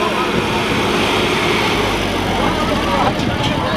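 A tractor engine pulls a back trolley at a rural competition, giving a steady, loud, rough roar that fills the clip, with a slight rise in the low rumble midway and crowd voices mixed underneath.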